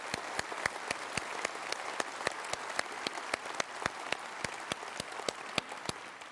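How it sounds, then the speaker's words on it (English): An audience at a Conservative Party leadership hustings in Cheltenham gives a round of applause, with sparse, scattered claps over a soft, steady crowd background. "So let's just give them a round of applause from the Conservative Party."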